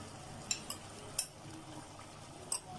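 Boiled chickpeas are stirred into cooked chicken in a cooking pan for Lahori murg cholay. Several sharp utensil clinks and scrapes ring out against a quiet fry in the background, close by, with no talking.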